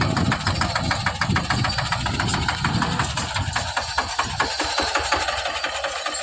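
A tractor engine chugging steadily during sowing in a village field, a loud, close diesel throb with a rapid regular knocking pulse running unbroken throughout, alone without voices.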